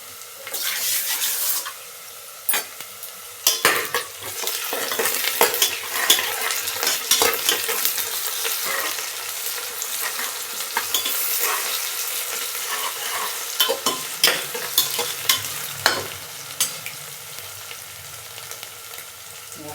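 Ginger garlic paste hits sautéed onions in a pan for mushroom biryani, a loud continuous frying sizzle with frequent spoon scrapes and stirring knocks throughout, close up and with no voices.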